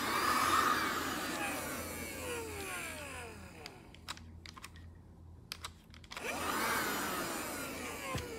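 A BLACK+DECKER Dustbuster QuickClean cordless handheld vacuum in white whines close by, its motor pitch sweeping as it spins down, then a stretch of clicks and clatter before the motor whirs up again.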